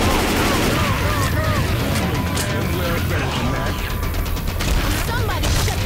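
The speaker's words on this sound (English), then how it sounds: "Somebody shut that gun up!" Dense, continuous gunfire from a Left 4 Dead 2 zombie-shooter match, rapid overlapping shots and bursts with players talking over the din.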